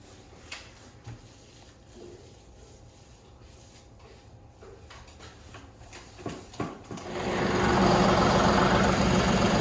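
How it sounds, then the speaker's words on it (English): A tractor engine cranks over with a few knocks, then catches and runs with a steady, loud rumbling drone close by. "I decided to go ahead and get the tractor fired up."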